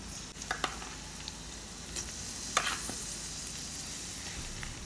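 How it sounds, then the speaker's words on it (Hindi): Thin beef steak slices, 250 to 300 grams, frying in a pan over high heat, steady close sizzle with a few light stirring clicks and scrapes, no talking. "अब इसमें मैं 250 से 300 ग्राम तक स्टेक डाल रही हूँ।"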